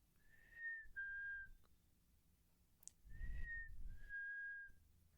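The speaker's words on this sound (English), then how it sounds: "Sometimes I like to whistle at them." A person whistles indoors toward a bird outside the window, four clear sustained notes in two pairs separated by a pause, quiet and close, with faint background noise.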